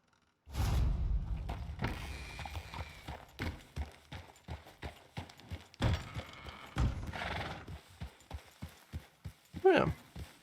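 Horse hooves clip-clop in a video game, a quick regular run of near hoofbeats with a short whinny near the end and some speech over the top.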